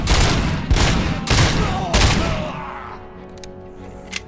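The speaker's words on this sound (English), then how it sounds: "Yep, it was a minor shootout." Heavy gunfire from a shootout in the video game RoboCop: Rogue City, with several loud bursts of rapid shots over the first two and a half seconds, then quieter scattered shots fading out.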